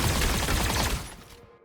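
Dense gunfire bursts in the game Project 401, a loud continuous fusillade that holds steady for about a second, then thins and fades out toward the end.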